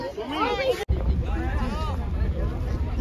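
Strong wind buffets the microphone on a boat in the Sundarbans, a steady rushing roar with voices talking loudly over it and a brief dropout near the start.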